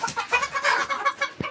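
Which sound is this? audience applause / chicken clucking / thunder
chicken clucking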